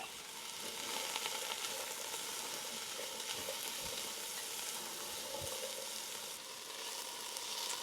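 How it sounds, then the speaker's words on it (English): Mushrooms and onions sweat down in butter or oil in a pan for a beef stroganoff, giving a steady, close, unbroken sizzle and crackle throughout with no talking. "Put in either some butter or some oil. Just enough to sweat these mushrooms and onions down."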